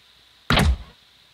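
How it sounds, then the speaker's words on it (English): A single short wooden door thunk from an RPG Maker MV game, heard alone: a sudden bump that fades quickly into quiet. "they actually have door sounds now."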